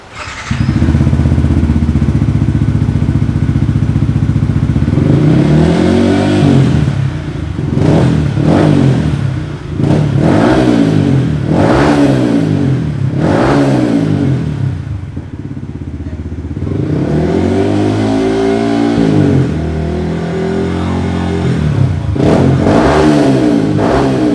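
A Yamaha R15 V3 motorcycle with a loud aftermarket Arrow exhaust idles with a deep throaty rumble, then revs up sharply several times, close and loud.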